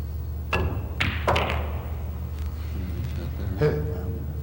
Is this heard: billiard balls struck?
yes